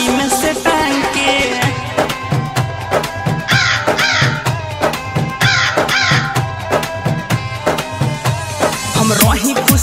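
A crow cawing effect repeats within a Bhojpuri Raksha Bandhan song, set over loud, rhythmic music with steady drum beats throughout.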